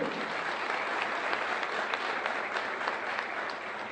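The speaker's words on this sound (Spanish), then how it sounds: "reverenciamos un fuerte aplauso" Audience applause fills an institute ceremony in San Cristóbal, a dense, steady crowd of clapping hands sustained at even loudness throughout, with no voices standing out.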